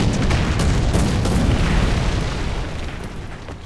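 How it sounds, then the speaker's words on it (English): A War Thunder tank fires artillery: one heavy, close boom with a broad rumbling tail that slowly fades over a few seconds. "shooting artillery"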